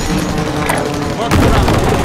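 Precision airstrike explosions in the video game Warzone: a continuous barrage of loud blasts and gunfire that swells into a heavier boom near the end, close and dense, with a radio-style voice speaking over it.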